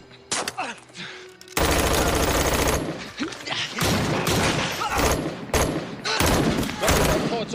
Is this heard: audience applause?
no